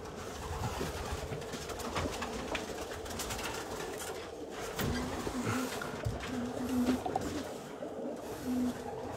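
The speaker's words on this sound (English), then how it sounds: "Let's just take a quick look at the cockbirds." Cock pigeons in their loft at evening feeding time give low, repeated cooing calls amid a buzzing, rustling background; the coos are moderately close and recur several times.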